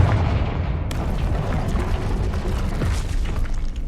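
Confringo fire spell blasts in Hogwarts Legacy, a dense sustained rumble of explosive booms and crackling impacts filling the whole stretch, loud and continuous.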